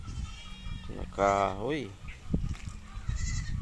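Goats feed on gerbilina leaves and bleat loudly nearby, one long wavering bleat standing out among shorter calls, with a person speaking over the feeding.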